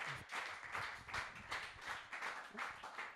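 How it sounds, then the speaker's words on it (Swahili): Applause for DJ Ronaldo on a live TV music show, a steady stream of audience clapping swelling in repeated waves throughout, with no talk over it. "Jamani, makofi kwa ajili yake DJ Ronaldo."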